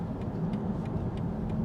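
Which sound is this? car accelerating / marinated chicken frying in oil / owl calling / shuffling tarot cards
car accelerating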